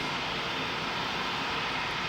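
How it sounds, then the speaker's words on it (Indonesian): Airplanes flying overhead give a steady, loud, broadband engine roar that holds without break for the whole span, with no voices. "Coba kalian lihat di kiri tuh banyak pesawat guys."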